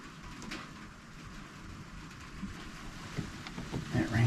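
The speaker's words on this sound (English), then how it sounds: "Yeah, it's getting windy too." Outdoor wind at a Pennsylvania deer hunting camp on a rifle-season opening weekend, a steady broadband rush that swells and gusts louder toward the end, with some voice-like sounds mixed in.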